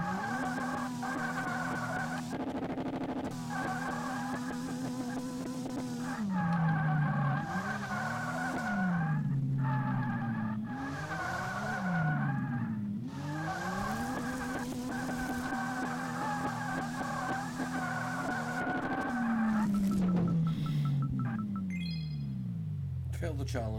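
Car engine and tire squeal from drifting in the video game Drift 21, with a faulty car; sustained engine drone sweeping up and down through repeated slides, continuous and loud throughout.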